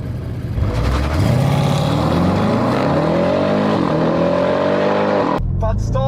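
Two roughly 700-horsepower family cars, an Audi RS6 and a BMW, launch side by side in a drag race, engines roaring loud and close as revs climb steadily through the gears before a sharp cut near the end.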